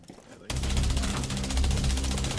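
Sustained rapid automatic gunfire in a first-person video game shooter, starting abruptly after a brief quiet moment and continuing loud and dense as a steady rattling burst.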